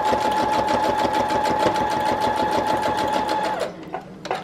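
A sewing machine runs a straight stitch through paper, a fast even mechanical chatter with a steady whine, close and loud, stopping abruptly near the end and leaving a few faint clicks.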